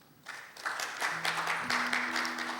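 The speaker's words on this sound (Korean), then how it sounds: "하나님께 영광이 되고 우리 자매에겐 격려가 될 수 있도록 뜨거운 박수로 모시겠습니다" A church congregation at a Sunday youth worship service breaks into applause to welcome a young woman to the front, the clapping swelling quickly and continuing over a sustained keyboard tone.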